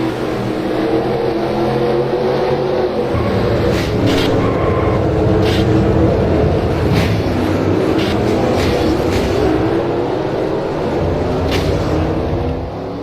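A pickup truck engine roars onboard in a sim racing game at Carbondale, a loud, steady, droning note that rises and falls with gear shifts and throttle across the whole stretch.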